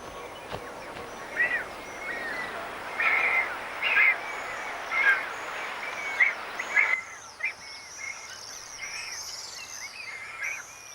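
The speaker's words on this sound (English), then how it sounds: "Every crack and crevice is alive with breeding birds." Breeding birds calling from cliff ledges and crevices in Botswana, a series of short, thin, high-pitched calls repeated at irregular intervals over a faint background hiss.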